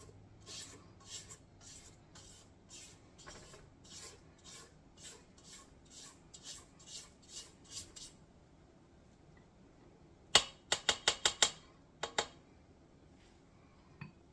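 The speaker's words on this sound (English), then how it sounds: "I'm scraping down the sides again" A spatula scrapes around the sides of a mixing bowl of cherry bar batter in a steady series of soft rasping strokes, followed by a few sharper scrapes and clinks against the bowl.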